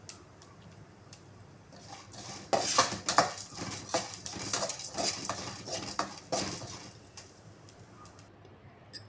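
A pan of pepper and cumin frying, stirred with a metal spoon: irregular clinks and scrapes against the pan over a soft background hiss, with clusters of louder strokes in the middle and no talk.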